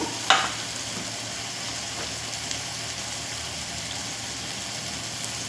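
Pulao masala frying in a pan with salt, chili powder and turmeric being stirred in: a steady broadband sizzle with a brief scraping stir near the start, no voices.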